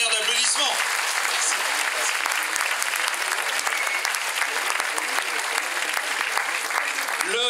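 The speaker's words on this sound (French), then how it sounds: "Un tonnerre d'applaudissements" Sustained, dense applause from a large audience at a French talent show, loud and steady from start to finish with no break.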